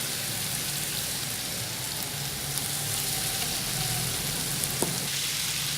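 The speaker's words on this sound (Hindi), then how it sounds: "कप ऑयल ऐड करके इसे अच्छी तरह भून लें ताकि इसका सारा पानी ड्राई हो जाए।" Beef sizzling in oil in a karahi, a dense steady frying crackle held close and loud for several seconds with occasional faint stirring taps.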